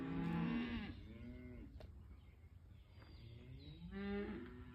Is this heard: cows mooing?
yes